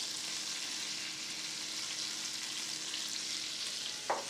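Veal sweetbreads sizzle steadily in a pan of butter and olive oil, a loud, even frying hiss throughout with a brief sharper pop near the end.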